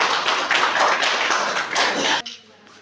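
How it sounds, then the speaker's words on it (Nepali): Applause at a Nepali life-membership ceremony greets a new member who donated to an endowment fund, a dense burst of many hands clapping close and loud for about two seconds before it cuts off to near quiet. "जोरदार तालीबाट स्वागत गर्नु"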